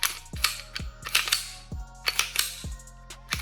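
The slide on a SIG P320-style pistol build is racked by hand several times, each one a sharp, close metallic clack, alone in a quiet room.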